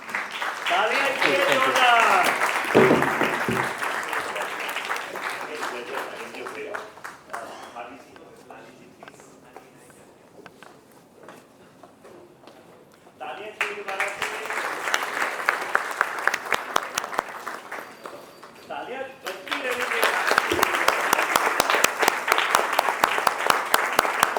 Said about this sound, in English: let's give a round of applause for Dr. Rakesh